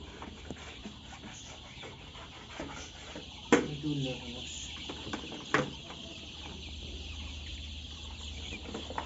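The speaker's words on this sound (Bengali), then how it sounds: "দেখুন কত সুন্দর সুন্দর ছোট ছোট মুরগি" Ten-day-old Sonali chicks, about 2,200 of them, cheep and chirp in a poultry shed, a busy, continuous chorus with a couple of louder bursts, while a person talks over it.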